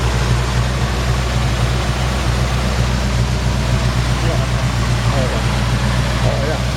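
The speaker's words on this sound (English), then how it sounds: "And just a smooth running engine." 1952 Ford F1 truck engine idling smoothly and steadily close up, a constant low rumble running under the whole stretch.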